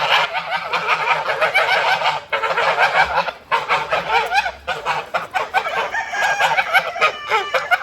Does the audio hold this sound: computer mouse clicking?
no